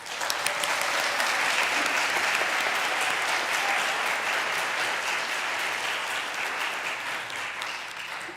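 A congregation at a Sunday worship service claps steadily for its departing acting director of music, a dense, loud applause sustained throughout and tapering slightly at the end.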